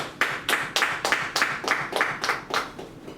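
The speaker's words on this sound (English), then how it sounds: "Let's give him a round of applause." At a language conference, a small audience claps in a sparse, rhythmic burst of about a dozen distinct claps, near and fairly loud, with no voices over it.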